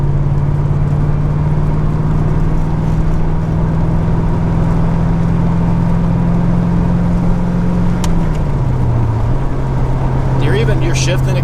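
Corvette engine with a manual transmission, a steady, loud, close drone that holds level and then drops in pitch late in the stretch as the car shifts or eases off.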